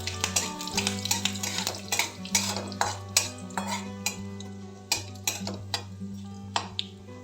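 A small dried chili and curry leaves crackle in hot tempering oil for coconut chutney, with a steady close sizzle broken by sharp pops and a few light utensil clinks.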